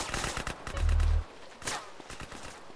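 Gunfire in GTA San Andreas comes as rapid, dense bursts of shots, loud and continuous across the moment with a short steady tone in the middle. No one speaks.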